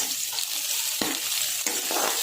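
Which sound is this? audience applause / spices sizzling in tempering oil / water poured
spices sizzling in tempering oil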